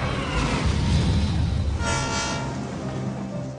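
A train rumbles past with heavy low-pitched rolling noise and sounds its horn partway through, a sustained tonal blast over the passing cars before the rumble slowly fades, close and loud, with no talk.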